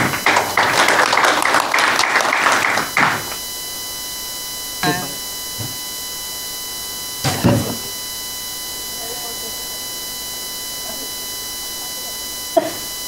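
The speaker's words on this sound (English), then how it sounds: "Have a big applause for our speakers" Audience applause for conference speakers at a media summit session on decarbonizing the cooling sector in Indonesia, a dense burst of clapping for about three seconds that stops abruptly, followed by quiet room noise with a few faint knocks.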